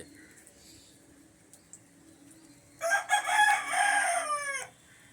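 A rooster crows loudly nearby in early-morning rain, one long drawn-out call, after a few soft chicken clucks over a quiet background.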